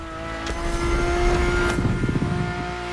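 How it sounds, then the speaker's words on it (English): A Ferrari F50 with a naturally aspirated Formula One-derived V12 drones steadily in The Crew Motorfest racing game, a loud sustained engine tone that swells slightly as it revs, no talking. "The F50's core is a normally aspirated V12 that came straight from a Formula One."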